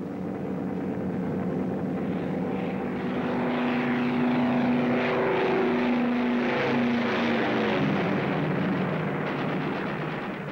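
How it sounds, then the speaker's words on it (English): Engines of WWII bomber aircraft approaching, a loud, sustained propeller drone with beating tones that swells and shifts in pitch as the planes draw nearer, with faint distant bangs underneath. "Bombers are approaching the target."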